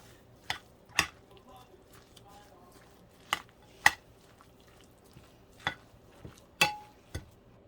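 Salmon croquette mixture with mayonnaise is stirred in a bowl, producing sparse, sharp knocks of a utensil against the bowl at irregular intervals, close and moderately loud over a quiet background.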